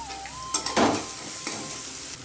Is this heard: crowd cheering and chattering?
no